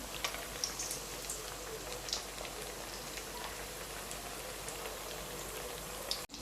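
Potato and cauliflower masala vada deep-frying in hot oil in a kadai: a steady, rain-like bubbling crackle with faint spits, continuous and moderately close until a brief clatter at the end.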